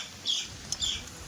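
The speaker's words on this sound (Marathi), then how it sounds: "पक्ष्यांचा आवाज म्हणजे एक नंबर पावसाळ्यात" Small birds chirping during the rainy season near trees and water, two brief high calls about half a second apart, faint and distant over soft background noise.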